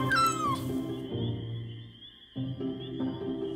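A stray cat meows plaintively, a short cry near the start, with another faint mew later over a steady high background tone, in an animated cartoon.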